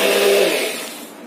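Yogurt and sugar are whirred together for lassi in a steady, loud mechanical blend that drones evenly and then winds down and fades toward the end.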